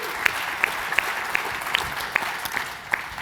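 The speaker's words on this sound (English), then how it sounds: "I think that's worth a little bit of applause," Light applause at a cloud cost management customer session, a few hands clapping in a loose, uneven rhythm against a soft room hiss, brief and modest in volume.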